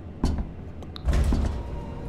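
An elevator door in a video game slides shut with a mechanical rumble and thud, loud and close, after a brief clunk.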